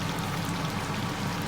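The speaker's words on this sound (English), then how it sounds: "bubbling away" Lamb Sindhi biryani simmering in a pot, oil risen to the top, gives a steady close-up bubbling and sizzling wash, dense and even throughout with no talk over it.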